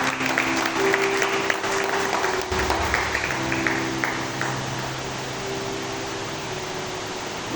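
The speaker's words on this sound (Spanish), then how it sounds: "Dale una ofrenda de palmas a Dios." Congregation at a church service claps in an offering of applause to God, dense clapping in the first half fading into a steady hiss-like wash with a low hum underneath.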